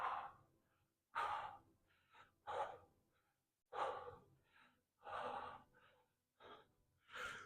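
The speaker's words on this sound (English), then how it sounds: "Breathing and holding." Heavy breathing while holding an L-sit during a workout: a series of sharp, close gasping exhales and inhales in uneven bursts with short pauses between them.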